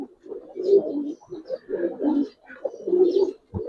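A male silver giribaz pigeon coos close by, giving three deep, rolling coo phrases in a steady rhythm with short pauses between them.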